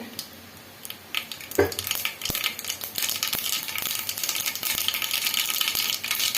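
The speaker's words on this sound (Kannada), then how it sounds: "ಇವಾಗ ಎಣ್ಣೆ ಬಿಸಿ ಆಗಿದೆ ಇವಾಗ ಸಾಸಿವೆ ಸೇರಿಸ್ಕೊಳ್ಳೋಣ ಸಾಸಿವೆ ಸ್ವಲ್ಪ ಸೀಡಿಲಿ" Mustard seeds spluttering in hot oil in a pan, starting with a quiet sizzle, then a sudden pop and a building crackle of sharp, irregular snaps over a steady frying hiss.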